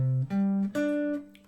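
Sustained electric-like guitar notes ringing in sequence, three clear pitches stepping upward, each held briefly with a smooth, tuned tone.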